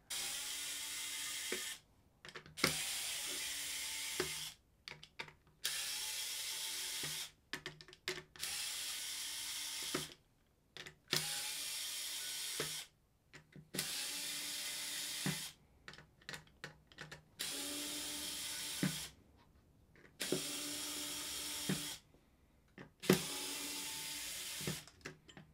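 A cheap handheld electric screwdriver removing screws, whirring in about ten steady bursts of a few seconds each, separated by short silent gaps, close and clear.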